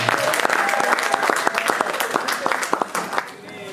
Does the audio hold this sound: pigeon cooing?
no